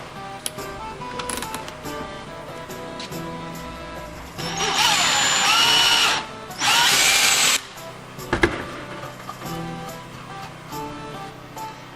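A power drill whirs in two loud bursts of a few seconds each, drilling a knife handle, separated by a short pause, over quieter background clatter and a sharp knock.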